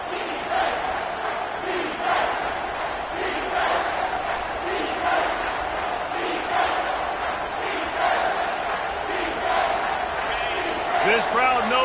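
A college football video game stadium crowd roars continuously in a Clemson versus UNC matchup, dense and loud throughout, with commentary voices running over it.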